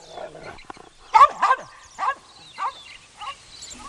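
A small dog barks excitedly in short yips and whimpers, roughly six close bursts spread unevenly with brief quiet gaps between them.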